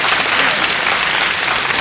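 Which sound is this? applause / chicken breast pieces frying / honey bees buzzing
applause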